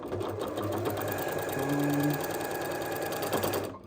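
A sewing machine runs a continuous top stitch along a quilted garment seam, a steady fast mechanical whir that holds evenly from start to finish.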